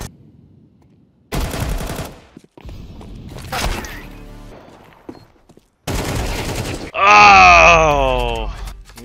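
AK rifle fire in the video game Counter-Strike 2 comes in several loud, rapid bursts separated by short pauses, with a voice briefly heard between the volleys and a drawn-out vocal sound at the end.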